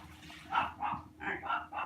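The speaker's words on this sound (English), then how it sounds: "Still unsure what my dogs are barking at" Dogs bark in a quick series of about five sharp barks, moderately close and fairly quiet, over faint background noise.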